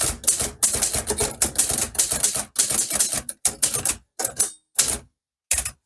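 An Olivetti Lettera 32 manual typewriter clacks away in rapid bursts of keystrokes, loud and close, then slows to a few spaced strikes separated by silent pauses.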